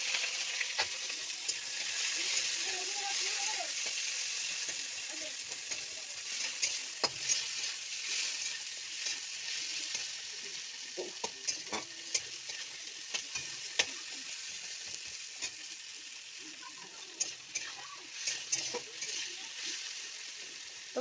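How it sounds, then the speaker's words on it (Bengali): Onions frying in hot oil with whole spices in a pan, with a steady loud sizzle throughout and repeated stirring scrapes and clinks of the spoon against the pan. "পেঁয়াজটা লাল লাল ভাজা হয়ে যাক"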